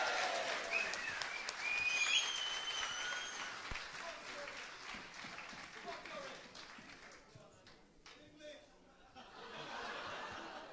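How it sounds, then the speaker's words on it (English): Wedding reception guests applauding after a speech, a lively burst of clapping mixed with chuckles that gradually thins out, with someone talking over it and a smaller swell of clapping near the end. "Big round of applause, please"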